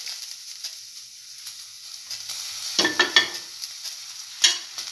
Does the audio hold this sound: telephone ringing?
no